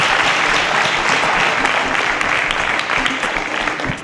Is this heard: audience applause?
yes